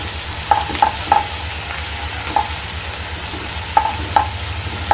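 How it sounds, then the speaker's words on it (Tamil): Chili powder is stirred into onions frying in a pan: a steady sizzle with sharp spoon-on-pan clinks at irregular intervals, close and alone without talk. "அந்த மிளகாத்தூளை வெங்காயத்தில் போட்டு அது லைட்டாக கலந்து விட்டுக்கோங்க."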